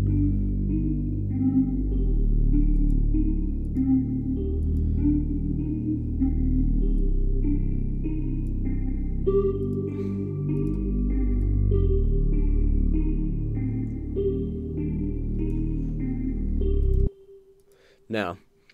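A heavy, distorted Serum trap bell synth plays a repeating melodic pattern with thick low-end and bell-like upper tones, loud and continuous before cutting off abruptly.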